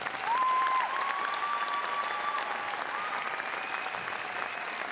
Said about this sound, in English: first of all, give them a good round of applause.